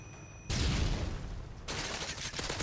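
SCAR-L rifle fire in Modern Warfare 3, with two loud bursts of rapid shots separated by a short gap, close and aggressive.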